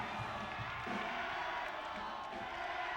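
Crowd at a high school boys basketball game against Madeira, a faint, steady murmur of many voices in a gym with occasional shoe squeaks and ball sounds; an announcer's voice may sit under the noise.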